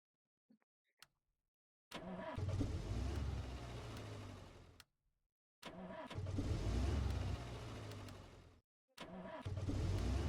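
A car engine revs hard in three loud bursts of several seconds each, separated by brief silences, with deep rumbling low end and no talk.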